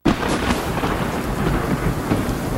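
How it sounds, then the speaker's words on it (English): Heavy sheets of rain in a thunderstorm with wind gusting around 50 to 60 mph, a loud, steady, dense roar that holds without a break from start to finish, with no talking. "we're just dealing with these sheets of rain and winds that are howling 50, 60 miles per hour"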